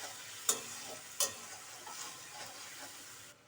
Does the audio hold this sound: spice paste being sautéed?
yes